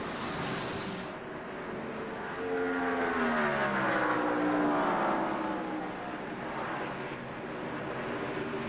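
NASCAR Busch Series stock cars roar around Atlanta Motor Speedway in the 2002 Aaron's 312, a continuous loud engine drone that swells as a pack passes close by, then eases back to a sustained distant howl.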